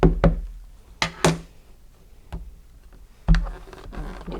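Stamping a diagonal stripe pattern onto a door: a series of dull, close knocks and pats, two quick pairs early, a lone tap midway and another firm knock near the end, fairly loud against a quiet background.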